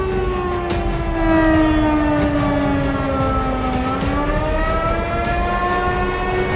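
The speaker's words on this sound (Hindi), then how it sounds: "कीव में बज रहे रेड अलर्ट सायरन के बीच लोग बंकर्स में अपनी जान बचाने के लिए छिपने की कोशिश कर रहे थे" An air raid red alert siren wails over Kyiv, a loud sustained tone that slowly sags and rises in pitch, its rich harmonics carrying through continuous background noise with scattered faint thumps.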